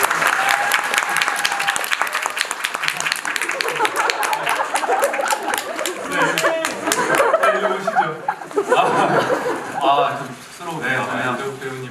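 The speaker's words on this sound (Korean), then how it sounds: "박수 소리가 작아서 아직 안 들었어요" A theatre audience claps loudly at a musical curtain call and stage greeting, steady dense applause with scattered laughter, gradually giving way to voices speaking over lighter clapping.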